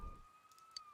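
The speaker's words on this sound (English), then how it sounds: "You can hear sirens nearby." A siren wails in the Persona 4 Golden video game, a thin steady tone that sounds faint and nearby, holding for about a second with no voices over it.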